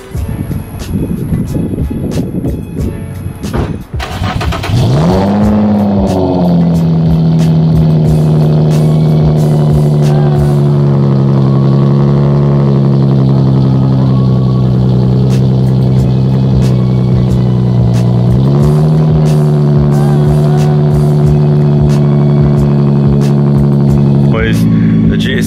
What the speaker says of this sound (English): Let's go ahead and give y'all a cold startup real quick.